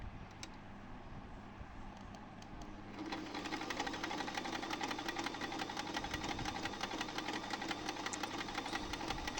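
A Butterfly electronic sewing machine stitches along fabric, starting as a faint rattle, then after a few seconds a steady rapid mechanical chatter of the needle, close and continuous without speech.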